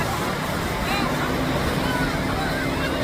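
Speedboats racing on the sea off Shivrajpur beach near Dwarka, a steady roar of engines blended with wind buffeting the microphone, surf and crowd chatter, with people talking throughout.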